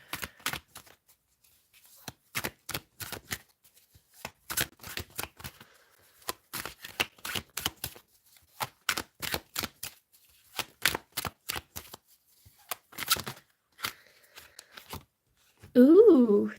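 Tarot cards shuffled and drawn in repeated bursts of crisp riffling and flicking, close and fairly loud, broken by brief pauses, with a voice speaking near the end.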